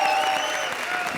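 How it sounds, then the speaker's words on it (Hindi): Studio audience applause at a televised comedy circus show, dense steady clapping filling the whole moment, loud and close with crowd noise mixed in. "तालियां मेरे लिए, तालियां जोरदार तालियां"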